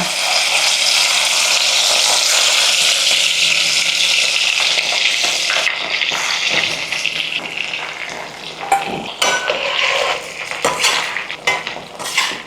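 Bitter gourd sizzles loudly in hot oil, a dense, close frying hiss that stays steady, then gets broken up by clinks and scrapes of stirring toward the end.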